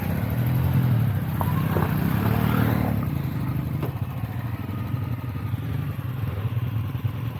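A motorcycle rides along a road near Achalu Betta, its engine a steady mid-pitched drone with wind rush and some clattering, close and continuous throughout without speech.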